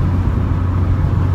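Steady low road rumble and wind noise inside a moving car with the sunroof open, a continuous close drone with no talking.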